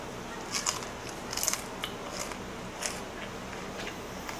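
Teeth crunch into a hard, crispy fried Chinese-restaurant dish, giving a few short, close, fairly faint crackling bites separated by quiet pauses.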